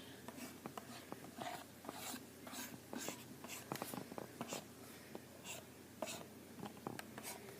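Tablet pen sketching on a drawing tablet in Photoshop CS6, heard as soft, close scratchy strokes that come in short, irregular bursts with small pauses between them.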